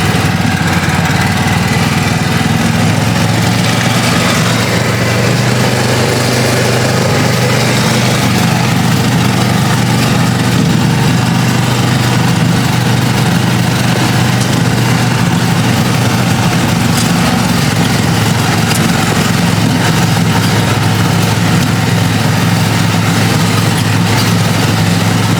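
An off-road vehicle engine drives along a trail near a cliff in rural woods with a loud, continuous droning rumble that stays close and steady throughout, with no speech.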